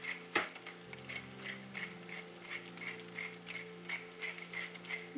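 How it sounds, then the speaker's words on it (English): Lamb mince stir-frying with eggs in a pan: a faint, even sizzle with light stirring scrapes after one sharp clink at the start, set against quiet sustained background music. "Then stir everything together and allow to simmer for about 1 minute"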